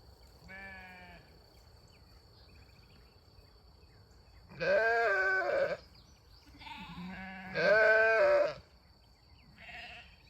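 Several sheep bleat in wavering, nasal calls, a few loud ones close by with quieter bleats in between, over faint background noise.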